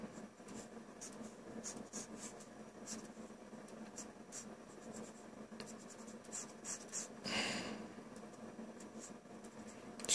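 A pencil sketches a human head in profile on paper, soft continuous scratching with quick light strokes repeating close to the mic, faint and steady without talk.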